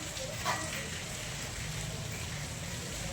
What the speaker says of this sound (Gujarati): ધીમી ધારે વરસાદ ચાલુ છે